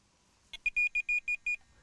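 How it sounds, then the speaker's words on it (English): A Tx-i Plus fishing bite alarm sounds a quick run of about seven sharp, high electronic bleeps after a short click. The beeps are evenly spaced and loud against near silence. "every single bleep on the buzzer is heard on here"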